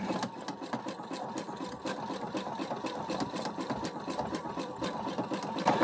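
A sewing machine runs a cross stitch seam down the centre of joined fabric pieces with a connecting-seam presser foot, a close, steady rapid mechanical whirr with regular needle ticks throughout and no talk.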